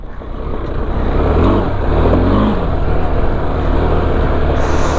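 A rally motorcycle rides over loose stones, its engine droning and revving steadily up close with a rough, continuous rumble and no pauses.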